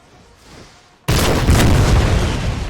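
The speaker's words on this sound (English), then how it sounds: "Get a fire of the guns here." A single loud boom of horse artillery cannon fire, a six-pounder King's German Legion gun in a Napoleonic Total War 3 battle, bursts out after a quiet stretch and rolls on into dense rumbling battlefield noise.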